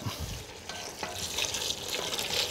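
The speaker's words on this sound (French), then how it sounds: "On a mis de l'eau à hauteur." Water poured into a pan of paella with rice and broth, a steady rushing splash and bubbling that swells toward the end, close and without talk.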